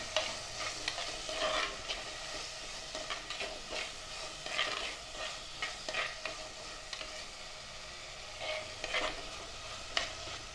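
Onion, ginger, garlic and tomato sautéing in a pan for sardine chilli curry, a soft sizzle broken by repeated scraping stirs with a spoon, fairly quiet and without speech.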